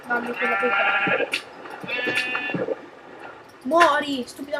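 Bleating sheep in a Minecraft survival game, three or four drawn-out, quavering bleats spaced apart with game thuds between, clear and close, while someone speaks over part of it.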